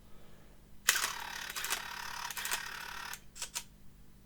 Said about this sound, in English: you would have heard the whir of the roll winding